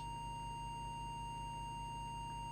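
A steady oscillator test tone of about 1000 hertz, fed through a CRT Megapro UK CE-MultiNorm mobile CB radio during service adjustments, holds one unbroken pitch throughout at low level under a faint hum.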